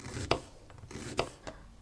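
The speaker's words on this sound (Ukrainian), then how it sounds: "Цибулю нарізаю напівкільцями" A knife makes a few crisp chopping strokes on a board slicing an onion into half rings, three or four cuts spaced irregularly, close and fairly quiet.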